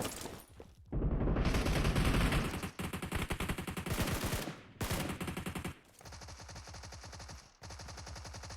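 Rapid automatic gunfire bursts loudly in a 4v4 video game arena mode, long sustained volleys broken by short pauses, then steadier rhythmic rounds continuing to the end, with no voices.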